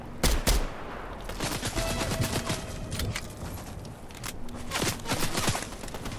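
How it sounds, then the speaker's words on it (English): Video game gunfire rings out in close bursts of rapid shots, some sharp single cracks and some fusillades, continuing almost nonstop over several seconds. "Now somebody else is shooting that way."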